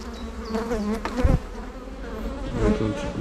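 Honeybees buzz loudly and densely inside an open hive while a swarm is being made by stacking boxes, a thick agitated drone with a brief knock of a frame partway through.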